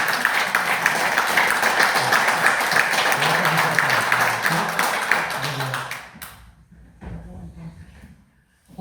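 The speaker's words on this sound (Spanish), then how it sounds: "Les pido un fuerte aplauso, por favor," An audience at a conference on local auxiliary boards in Puebla applauds a speaker with loud, steady clapping for about six seconds, then it fades to scattered claps and low room noise, with faint voices underneath.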